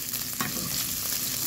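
Hotdogs frying in hot oil in a pan for a creamy spaghetti dish, giving a steady close sizzle and crackle with a brief stir or clatter near the start; no talking.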